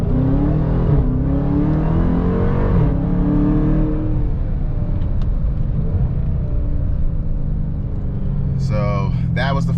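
A 2020 Dodge Charger Daytona Hellcat builds revs and accelerates hard from a launch, its engine note climbing in close, loud pulls before easing, with talking under the engine noise.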